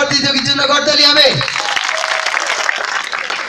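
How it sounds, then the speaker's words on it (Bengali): An audience claps for a contestant at a competition event, a burst of applause that starts under a loud voice and then carries on alone as steady clapping. "আর সেই সঙ্গে আমরা জোরে একটা করতালি দিব।"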